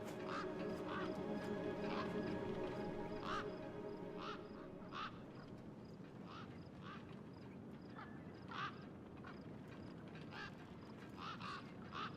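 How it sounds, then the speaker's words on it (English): Scavenger gang birds in the game Beyond a Steel Sky give repeated quacking, duck-like calls in a steady irregular rhythm, moderately near, over a constant noisy wasteland ambience with no talking. "Then, I heard them. Gang birds, scavengers"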